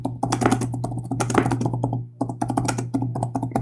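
Fingers type a message on a computer keyboard in quick, irregular bursts of close clicks and taps, with a brief pause midway and a steady low hum underneath.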